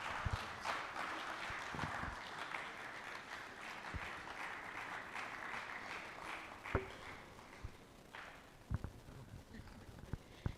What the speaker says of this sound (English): A better round of applause for them